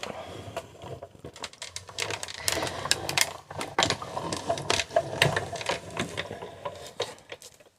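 A Stampin' Cut and Emboss die-cutting machine runs a die and cardstock through its rollers for a papercraft project, giving a steady run of close, dry clicking and ratcheting taps at moderate loudness with no talk.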